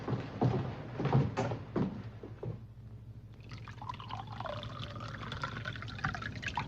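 A bottle clinks against a glass before brandy is poured into it, with a short run of liquid trickling in, then quiet sounds of handling follow. No one speaks.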